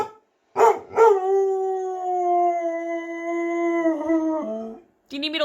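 A pet dog howls in long, sustained wavering tones, close and fairly loud, after a couple of short opening yelps, then breaks into a brief bark at the end.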